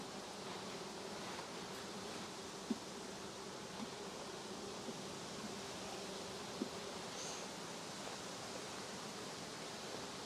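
A dense, steady buzz of many honey bees at a hive fills the air continuously, with a couple of faint clicks and no voices.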